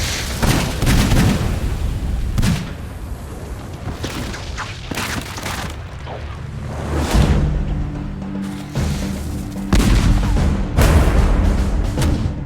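A medieval multi-barrelled gunpowder gun of the Hundred Years' War era fires in a series of loud, booming blasts with rumbling tails, several discharges spread across the stretch, with no talk.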